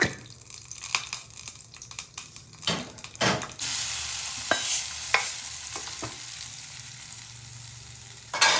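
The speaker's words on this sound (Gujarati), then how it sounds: "એમાં 2 ચમચી ઘી અને એમાં પછી ધાણા જીરું અને એનો વઘાર મૂક્યો છે" Coriander, cumin, fenugreek and mustard seeds sizzle in ghee as a tempering for a fresh turmeric curry, with stirring clatter at first, then a steady hiss and sharp crackles and pops.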